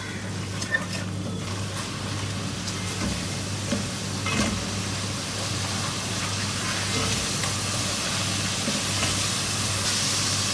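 Fennel, ground coriander and nutmeg-mace powder dry-roasting in a pan, giving a steady, continuous sizzle with soft scraping from stirring throughout, fairly close and even in level.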